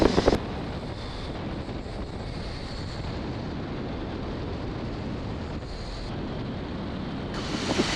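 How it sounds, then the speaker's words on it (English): Gusty wind at an airfield ahead of approaching storms, a constant roaring rush buffeting the microphone, swelling slightly at the start and end. "the gust front from the approaching storms was already here"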